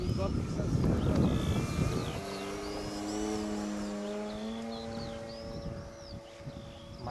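An electric model Hellcat plane passes overhead with a steady, sustained motor whine that holds pitch for several seconds after a noisy gusty start, while a person talks.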